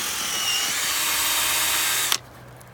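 A power drill bores a tap hole 1.5 to 2 inches deep into a maple tree trunk for sugaring, a steady close high whine that runs continuously, then stops abruptly near the end.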